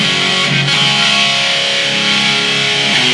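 An electric guitar played through a BOSS eBand JS-10 set for a 1970s tone with plate reverb rings out in a loud, distorted sustained chord with rich harmonics, unbroken and alone.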